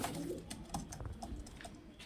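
An Allahabadi male pigeon coos close by in low, throaty murmurs, mixed with a few light tapping clicks against a quiet background.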